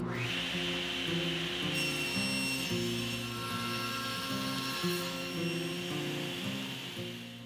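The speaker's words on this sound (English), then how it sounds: "I'll make one pass with each side" A table saw cuts a rabbet in wood with the blade set at half an inch, a steady loud whining roar under background music, rising in pitch as the cut starts.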